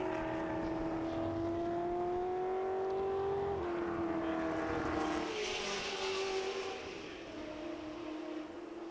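A Ford GT40 race car passing on the Silverstone circuit, its engine droning at a steady high pitch that shifts as the car goes by, then fades slightly, heard from trackside.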